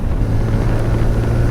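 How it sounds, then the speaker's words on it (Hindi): A TVS Apache RTR 160 2V motorcycle accelerating toward top speed, a loud continuous engine drone heavy in low rumble with steady wind buffeting across the microphone, no voices. "देखिए ये मोटरसाइकिल अपने टॉप स्पीड की तरफ बढ़ रही है।"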